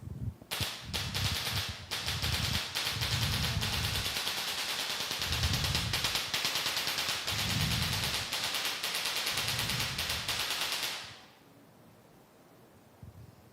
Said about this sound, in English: Lit the firecrackers.